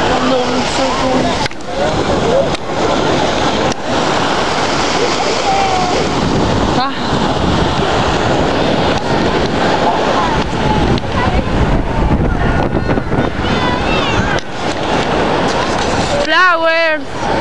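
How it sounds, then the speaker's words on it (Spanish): Ocean surf rolls in at a beach while strong wind buffets the microphone in loud, gusty bursts, and a few brief voices surface near the end. "Las olas y el viento"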